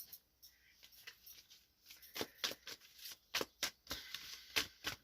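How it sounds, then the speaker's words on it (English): Oracle cards being shuffled by hand, a run of crisp riffling bursts and soft flicks that grow quicker and louder toward the end, close up with no talking. "Let me pull one of these oracle cards."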